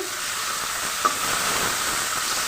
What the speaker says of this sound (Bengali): তো আমি তেলের মধ্যে পেঁয়াজ দিলাম